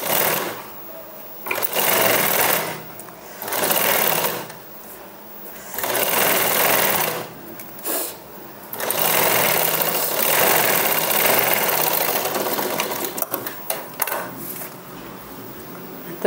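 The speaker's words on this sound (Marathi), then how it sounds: "परत याच्यावर आपल्याला एक शिलाई मारून घ्यायची आहे" A sewing machine stitches a seam on puff sleeves with a potli button, running in several loud rapid bursts separated by short pauses, then a longer continuous run.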